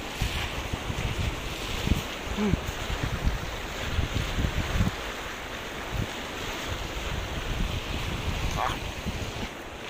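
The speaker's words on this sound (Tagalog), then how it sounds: "Ang lakas ng kulo." Strongly boiling water bubbles steadily in a sulfur hot spring at Daclan, Bokod, Benguet, heard outdoors as a continuous broad rushing and churning with wind buffeting the microphone, and voices exclaim faintly over it.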